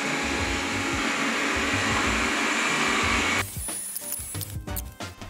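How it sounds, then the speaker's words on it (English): A Xiaomi robot vacuum cleaner drones steadily at close range, then cuts off abruptly partway through, leaving quieter clicks and faint room noise. "Vacuum the living room."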